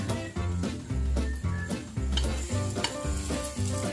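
French toast coated with honey fries over a low flame in a pan, with sizzling and stirring under rhythmic background music.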